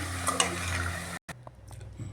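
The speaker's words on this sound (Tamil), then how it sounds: "இதை நல்லா ஒரு தடவை வதக்கி விடுவோம்" Chopped vegetables sizzle and scrape in a pan as they are stirred, a steady frying hiss broken by a brief pause before quieter stirring resumes.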